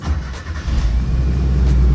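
A Ford Festiva's small engine idles steadily and loud, with a low rumble that swells slightly after a brief dip near the start and then holds even, with no talking.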